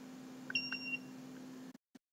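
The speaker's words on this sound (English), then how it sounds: "It just beeped at 5 seconds, and now it's done, and it's off." A CureFX dental curing light in ramp mode gives a short electronic beep over its steady hum, then shuts off with a couple of faint clicks.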